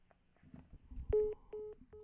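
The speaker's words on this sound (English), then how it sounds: "Okay, it's a call fail." Telephone call being dialed and failing, with a short run of dial tones and beeps rising out of low background noise and a faint voice, heard close and alone.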